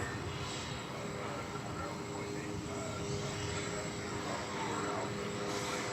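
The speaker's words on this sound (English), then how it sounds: "So that plane that disappeared already landed on the center runway, and this one's going all the way on the left runway" A jet airliner lands at DFW Airport, its engine roar a steady, broadband rumble that holds at a constant distance throughout, with a faint speaking voice underneath.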